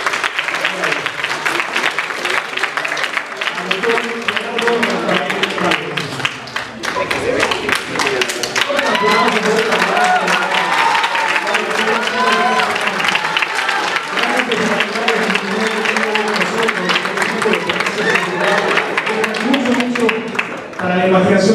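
A large audience at an international congress on operating systems breaks into sustained, dense applause that runs loud and steady throughout, with faint voices mixed in.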